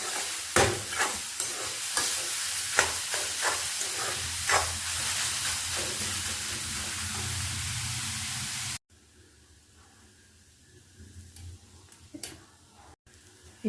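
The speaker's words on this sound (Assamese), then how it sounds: "অলপ সময় এনেকৈ লৰাই থাকি ভাজিব লাগিব।" Grated carrot halwa sizzles and hisses steadily in a pan while a spoon scrapes and stirs it in repeated close strokes, then the sound cuts to a quieter, fainter sizzle with a few clinks.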